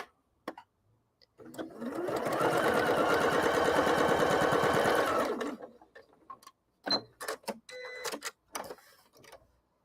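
A sewing machine stitches fabric pieces for half square triangles in one steady run of rapid mechanical whirring lasting about four seconds, followed by clicks and handling sounds of the machine and fabric.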